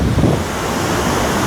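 Strong sea waves surge and wash along Anyer beach on a windy morning, a steady broad roar of surf with wind buffeting the microphone, loud and continuous throughout.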